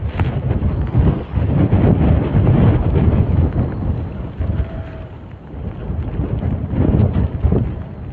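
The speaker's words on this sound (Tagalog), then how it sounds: "Masyadong malakas po ang hangin dito." Strong wind buffets the microphone in loud, rumbling gusts that rise and fall throughout, with no voices.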